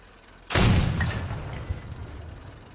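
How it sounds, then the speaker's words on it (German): A single heavy boom from a 200 mm cannon in the Crossout vehicle combat game, a loud close blast with a long rumbling decay and a few fainter impacts after. "Ich schieße natürlich jetzt gerade wieder auf die Kabine"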